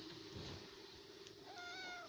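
A small kitten gives one clear, drawn-out meow near the end of a quiet indoor moment, preceded by soft background shuffling.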